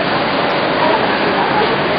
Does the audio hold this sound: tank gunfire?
no